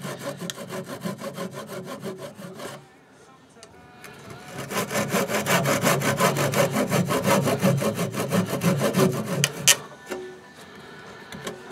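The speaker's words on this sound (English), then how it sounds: "This just allows me to get the sandpaper in a bit better." Rapid rhythmic rasping of sandpaper worked back and forth on wood, close up, with a brief pause before the strokes resume steadily.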